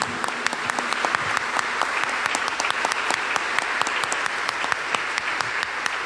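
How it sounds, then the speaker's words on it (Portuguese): A congregation at Sunday Mass in the diocesan cathedral of Caraguatatuba claps warmly together, a loud, full round of dense applause with sharp individual claps standing out, sustained without a break. "vamos aplaudir a palavra de Deus com muito carinho"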